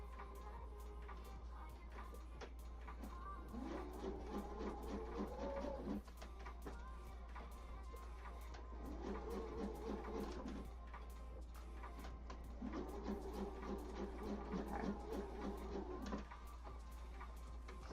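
A sewing machine stitches costume fabric at a seam allowance of a little over half an inch, running in three short bursts of rapid mechanical chatter, faint and close, with quiet pauses between runs.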